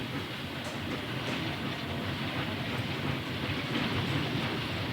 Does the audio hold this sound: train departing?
yes